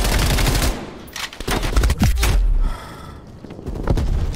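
Automatic gunfire in Call of Duty Black Ops Cold War, loud rapid bursts of shots close by, pausing briefly and then resuming, with a gasp-like breath in between.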